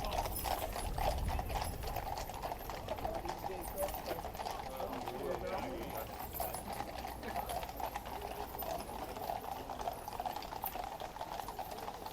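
Horse guard horses trot along the Mall at a fast pace, their hooves clip-clopping in a steady rapid rhythm that continues throughout amid outdoor crowd noise.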